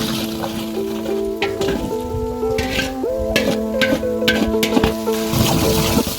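Onions frying in hot ghee and dalda with mint, coriander and curry leaves in a pot, a dense, loud sizzle with scraping stirring strokes and clinks, accompanied by a steady tonal hum.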